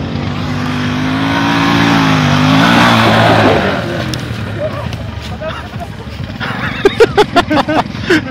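A Minsk X250 motorcycle on a ride alongside quad bikes revs hard and accelerates, loud and close with a rising engine pitch, then gives way to wind rush and scattered clattering.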